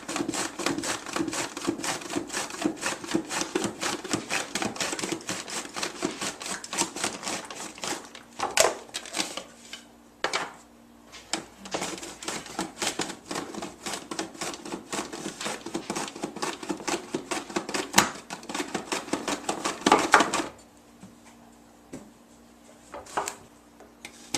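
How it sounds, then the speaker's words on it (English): A knife slicing zucchini on a board, a long run of fast, even chopping taps, close and crisp, broken by short pauses and a brief stretch of quieter single cuts near the end. "Alright, so we're going to get the zucchini cut up."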